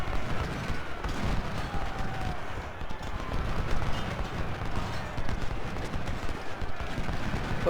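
Musket volleys and artillery fire from the Civil War strategy game Ultimate General: Civil War, a dense, continuous rumble of distant gunfire and cannon booms with no pauses.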